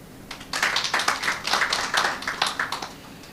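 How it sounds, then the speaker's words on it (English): Scattered clapping from a small audience at a regional policy forum on financial inclusion, individual claps distinct and moderately near, rising after a brief pause and continuing unevenly. "Please clap for them."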